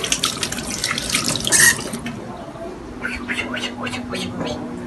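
Tap water runs and splashes as hands are washed under it, close by, with a person speaking over the flow.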